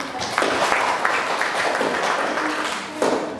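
Classroom applause breaks out in a school setting, a short burst of moderately loud clapping from a group of students lasting about three seconds, with a brief surge near the end.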